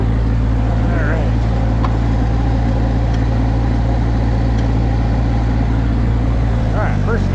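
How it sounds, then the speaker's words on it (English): An excavator engine idling steadily while its boom is dropped into the ground for trenching, a loud, constant low drone with a few faint clanks. "maybe we'll drop the boom in the ground and do a little bit of trenching with it"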